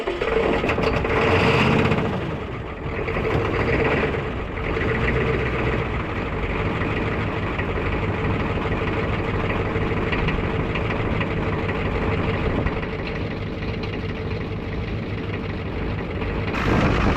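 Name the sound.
Ford 6.9 IDI turbo diesel engine starting and idling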